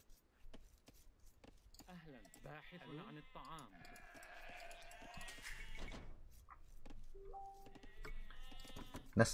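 Sheep bleat repeatedly in a real-time strategy game, several wavering cries near and clear, separated by short clicks and taps of game interface sounds.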